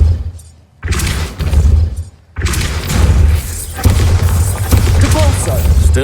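Repeated Depulso spell casts in Hogwarts Legacy, each a loud thudding blast with a burst of impact, some landing close together, over steady game ambience and a character speaking.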